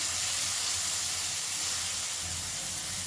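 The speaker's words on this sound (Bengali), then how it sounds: "গ্যাসের ফ্লেমটাকে একদম হাইতে রেখে 1 মিনিটের মতন আমি একটু এটা ভাজা করে নেব।" Frying in a wok over a high gas flame for an egg bati chorchori, a steady close hiss and sizzle of food in hot oil running continuously without a break, with no talking.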